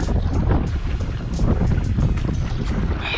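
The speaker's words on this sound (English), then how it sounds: "You can see how strong this wind is." Strong, steady wind roars and buffets loudly across the microphone on open water while kayaking, with a deep rumbling low end and no voices.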